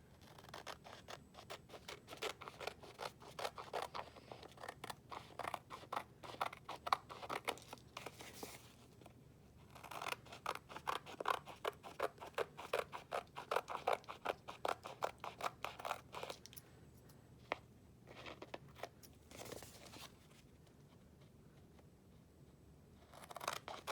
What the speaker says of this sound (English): I can come down here and trim this up too, so I only see red.